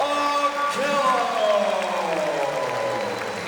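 A crowd applauds the winner of a women's wrestling match at the Olympic Team Trials, a steady wash of clapping and cheering that runs under a commentator's voice throughout.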